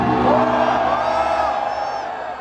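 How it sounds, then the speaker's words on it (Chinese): A large audience at a band's year-end banquet performance cheers and whoops loudly, a dense roar of many voices that swells at the start and slowly fades over a couple of seconds. "这个欢呼声真的不输我们前几天演唱会的现场"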